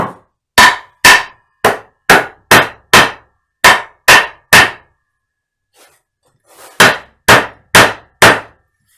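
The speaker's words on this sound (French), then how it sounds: "Je tape mon marteau sur le dessus" A hammer taps on top of freshly glued wood on a workbench, about fourteen sharp, loud, evenly spaced knocks in two runs separated by a short pause.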